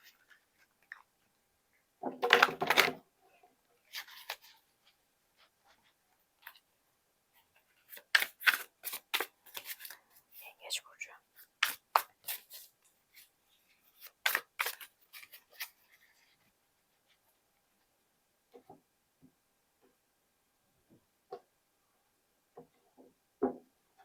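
Tarot cards are shuffled and picked from a deck, making scattered bursts of crisp snapping and riffling clicks separated by quiet pauses, close and dry.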